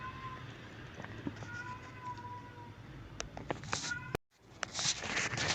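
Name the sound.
cat meowing outside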